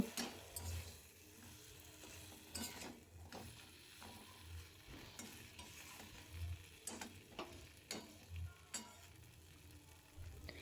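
Fish heads from a katla carp are stirred and fried in spice paste for a mung-masoor dal, giving a steady low sizzle broken by repeated scraping stirs, fairly faint and close with no talk.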